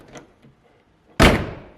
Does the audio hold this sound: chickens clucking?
no